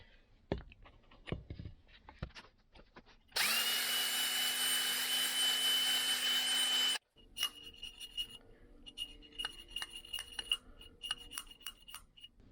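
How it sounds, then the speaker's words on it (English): A steady, loud drill whine runs for a few seconds as it hones the engine cylinder of a 2009 Honda CRF150R, preceded and followed by scraping and clattering workshop noises. "we're going to continue to hone it until it's within spec"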